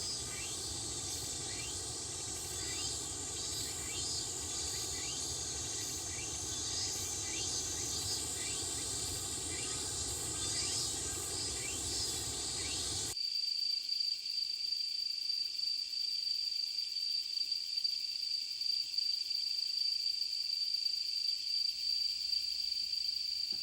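Cicadas buzz from summer trees in a palace garden, a dense, steady high-pitched drone that holds throughout, shifting abruptly partway to a thinner, sharper whine against near silence.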